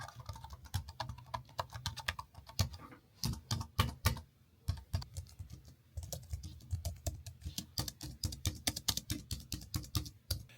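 Typing on a Rapoo wireless keyboard with scissor switches and spherical keycaps, a close, fast flurry of soft clacks in uneven bursts with brief pauses and no talking.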